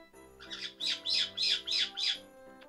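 Pet caique parrots squawk loudly and close by in a run of about five harsh, rapid bursts, with a brief high call at the end.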